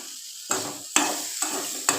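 Green beans stir-frying in oil over a low flame, with four distinct stirring scrapes at even intervals over a steady, soft sizzle.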